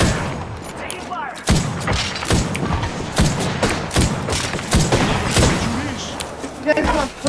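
Rapid, dense gunfire in an Apex Legends match sounds as bursts of close shots and heavy thumps, layered with a player speaking over the action.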